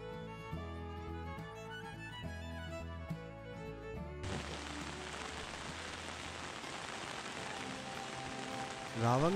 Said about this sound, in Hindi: रावंगला में हमारा स्वागत किया जोरदार बारिश ने।